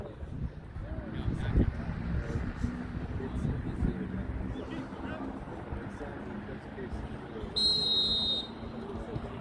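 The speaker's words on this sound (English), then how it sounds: "Whistle blown." A referee's whistle at a youth boys' soccer match gives one sustained, shrill blast near the end, heard over steady wind rumble and distant sideline voices.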